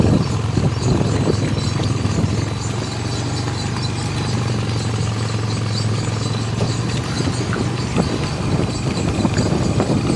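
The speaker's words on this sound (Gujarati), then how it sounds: "માહિરભાઈ બેઠા ઘોડી ઉપર" A mare's hooves clip-clop in a steady uneven rhythm as she is ridden outdoors, close and continuous under a low background hum, with no talking.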